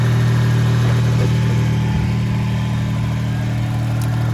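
A Geo Metro engine runs loud and steady, its exhaust droning with a deep, rumbling hum that holds throughout, close by and without talk.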